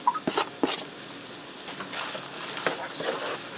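Diced pepperoni is stirred into browned ground beef and sausage in a pan, a soft sizzle under a few sharp scraping stirs and utensil knocks near the start and end.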